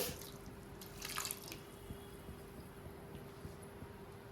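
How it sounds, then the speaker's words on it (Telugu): Water is poured into a kadai of jaggery to make syrup, giving a faint, close trickle and dripping with a few brighter splashes early on over a low background hum. "పాకానికి కొంచెం వాటర్ పోస్తున్నామండి"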